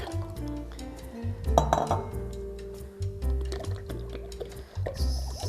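A pot of milk and heavy cream set onto a kitchen stove, with clinks and knocks of cookware, a soft liquid slosh and a faint steady hum beneath the handling.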